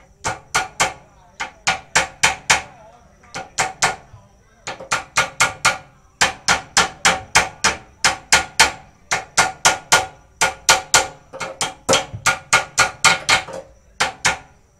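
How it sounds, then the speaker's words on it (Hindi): Hammer blows on a part of a Bajaj Boxer motorcycle's disc brake conversion, sharp metallic knocks in fast groups of three to six, repeating steadily and loud throughout. "इसको आपको और थोड़ा सा हथौड़ा मारना पड़ेगा।"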